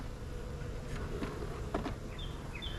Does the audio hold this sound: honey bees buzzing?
yes